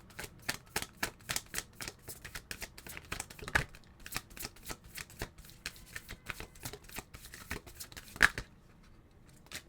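Tarot cards riffle and snap in a steady run of crisp shuffles for several seconds, fairly close and quiet, then stop near the end.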